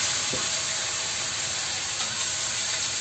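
Food sautéed then simmering with added water in a covered pan in a home kitchen, a constant close hiss of steam and sizzle without pause.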